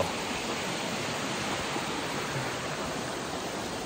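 Steady rushing water of a river flowing over rocks along the Appalachian Trail, a continuous broadband roar heard up close with no voices.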